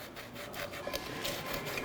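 Sandpaper rasping back and forth along the cut rim of an opened aluminium drink can, a steady close scratching with repeated strokes.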